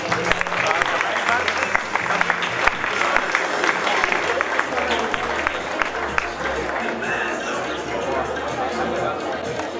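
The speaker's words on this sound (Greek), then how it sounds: "Χειροκρότημα για την Χριστίνα." An audience applauds a model in a black one-piece swimsuit at a swimwear fashion show, with steady, dense clapping from a crowd mixed with chatter and a presenter's voice over music.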